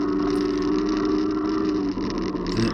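Tyres of a Calbury Kinetic e-bike hum on a road surface along with its motor, a steady close-up rumbling drone with a whirring tone that holds throughout, dipping briefly near the end, with no voices.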